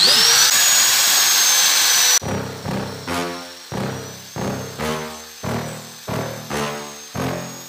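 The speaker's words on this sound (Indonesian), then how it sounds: "Tinggal kita ini manual saja, kita gerinda." Angle grinder cutting while a lampu proji projector headlight is fitted: a loud continuous whine for about two seconds, then eight rhythmic bursts of grinding, each rising and fading in a steady repeating pattern.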